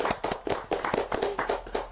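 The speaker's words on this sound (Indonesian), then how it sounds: "Kita tepuk tangan dulu." A group claps in quick, steady unison, with about four sharp, close claps each second in a short, even burst.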